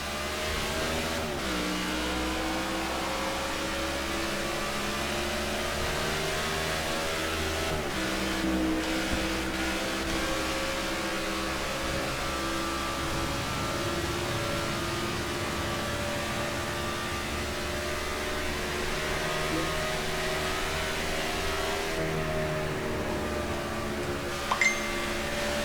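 Race cars in the NASCAR '15 video game roar off at the green flag for a night race at Kansas Speedway, a dense, steady wall of engine noise with rising revs that holds loud throughout.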